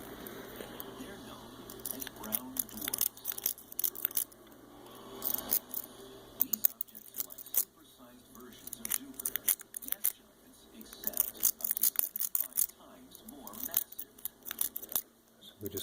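Pick raking the pins of a Teicocil 15-pin cruciform lock, giving faint, irregular metallic scratching and clicking bursts that come and go throughout, close up and quiet.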